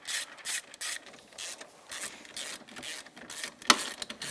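A hand ratchet loosens the two 12 mm brake caliper bolts on a 2012 Honda TRX420 Rancher ATV, giving close, rapid bursts of clicking in uneven strokes with short pauses between them.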